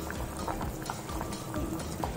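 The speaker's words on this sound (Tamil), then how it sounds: "இப்போ நல்லா கொதிச்சு வருது." Chettinad-style curry bubbles in a pot as it comes to a boil, a soft, steady run of popping blips, close and fairly quiet, with no talk.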